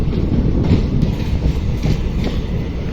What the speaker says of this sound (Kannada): ಟ್ರೈನ್ ಈಗ ಬನ್ನಿಕೊಪ್ಪ ರೈಲ್ವೆ ಸ್ಟೇಷನ್ಗೆ ಬಂತು ನೋಡ್ರಿ.